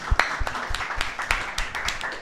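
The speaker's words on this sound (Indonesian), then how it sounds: "Tepuk tangan dong untuk HN" Audience clapping at a live comedy show, a modest group applauding with uneven, scattered claps that stay fairly close and moderate in level.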